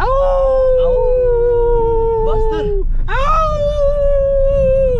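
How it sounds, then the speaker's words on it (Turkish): Wolves howl near Keşan, Turkey, in rainy weather: long, sliding howls fade out, pause briefly, then a new rising howl swells and holds, all over a steady low rumble, with a short spoken word. "O ses ne de öyle ya? Kurtlar var."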